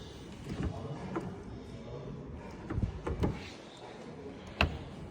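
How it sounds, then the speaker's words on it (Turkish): Faint mechanical clicks and soft clunks of a Porsche GT3 RS door being unlatched and opened, spaced out over a few seconds, with a sharper click near the end. "Şimdi kapıyı açıyoruz."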